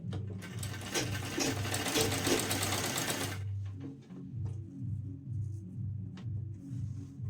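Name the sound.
sewing machine stitching a fabric strip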